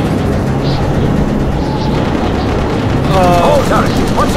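Bomber gunners firing machine guns in Call of Duty: United Offensive, a steady, dense rattle of gunfire and engine roar filling the whole stretch, with radio-style voices and a faint whistling tone near the end.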